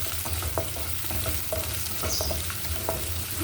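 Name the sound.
food frying and being stirred in a pan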